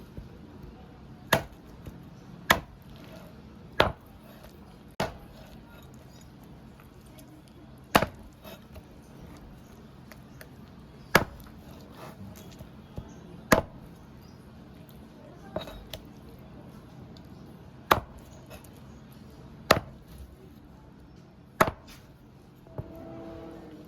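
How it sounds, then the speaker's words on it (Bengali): Chicken meat being chopped into pieces for a Bihari-style chicken dish, with about a dozen sharp, separate knife strikes landing at uneven intervals over a low background hum. "আমি আগে মাংসটা পিস করে নিচ্ছি"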